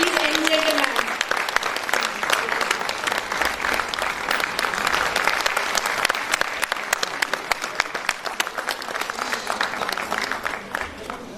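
Sustained audience applause fills a conference hall at AHPCON-2016 at AIIMS Delhi during a memento presentation, with dense steady clapping throughout and a voice heard briefly at the start.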